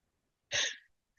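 A single sharp sneeze bursts out during a school board meeting, brief and close, with silence before and after.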